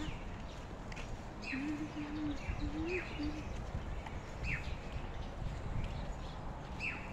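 Faint, short bird chirps repeat at fairly regular intervals over a soft outdoor background in Yuen Long, New Territories.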